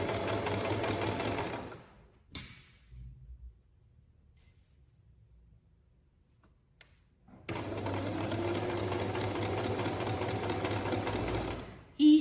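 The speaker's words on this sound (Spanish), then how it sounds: "la overlock de 3 hilos, o sea, sirve, podés unir, pero no tiene una puntada de seguridad reforzada" A 3-thread overlock sewing machine stitches a sleeve cap to the armhole of a T-shirt. Its steady, close motor whir runs for about two seconds, stops, then starts again and hums on continuously.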